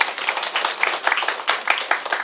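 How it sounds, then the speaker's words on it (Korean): An audience at a teacher-exam success presentation bursts into brief, lively applause, a dense patter of many hands clapping at close range with no talking over it. "박수 한번 쳐주세요"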